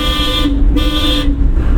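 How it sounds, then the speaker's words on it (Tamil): Two loud car horn honks, close by, each about half a second, over steady engine rumble, during a driving lesson. "ஹார்ன் அடிச்சு போங்க."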